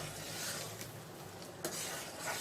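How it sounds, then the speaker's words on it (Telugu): Sugar water boils into syrup in a pan, giving a soft continuous bubbling hiss with a faint scrape or tap partway through, quiet and without talk. "బాయిల్ అవుతుంది షుగరు వాటరు"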